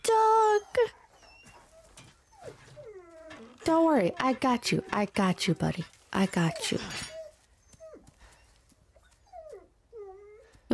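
Dog whimpering in the video game Resident Evil 4 Remake, high thin whines and yelps recurring across the scene, mixed with someone talking over them.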